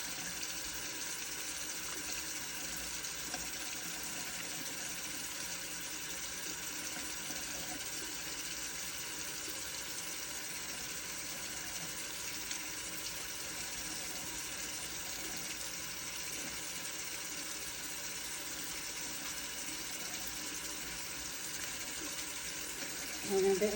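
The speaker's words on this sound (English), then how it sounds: "we're going to wash the hands for 20 seconds." Tap water running steadily into a sink during handwashing, a constant soft rushing stream heard alone at moderate distance with a brief bump at the very end.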